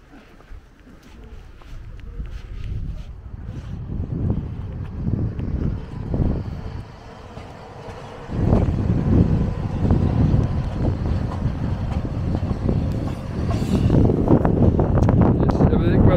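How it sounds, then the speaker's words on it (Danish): Gusty outdoor wind buffets the microphone during a walk, producing a low, rumbling roar that swells and drops, growing heavier and steadier in the second half. "Det blæser"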